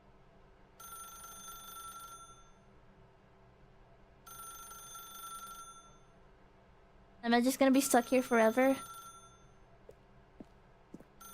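Telephone in The Stanley Parable: Ultra Deluxe ringing twice, each a steady electronic trill lasting over a second with a pause between, followed by a voice speaking.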